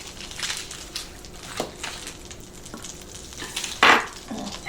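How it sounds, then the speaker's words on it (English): A soft, steady sizzle of margarine frying in a pan, with occasional scrapes and taps of a utensil and one louder clatter near the end. "You can hear it sizzling."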